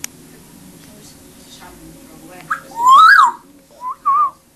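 An African grey parrot whistles a rising, sweeping note followed by two shorter whistles, close and clear over a quiet room after soft talk.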